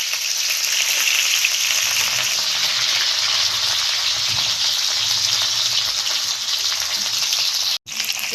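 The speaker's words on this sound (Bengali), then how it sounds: "এটা একটু লো ফ্লেমে ভাজতে হবে" Cauliflower frying in oil in a pan over a low flame, a steady close hissing sizzle that runs without a break, with one very brief dropout near the end.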